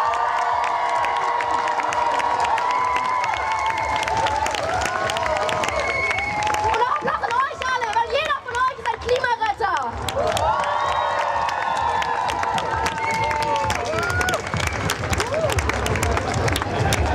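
A large outdoor crowd at a climate strike rally in Berlin claps and cheers loudly and continuously, with whoops and shouts rising over dense applause, and voices mixed in throughout.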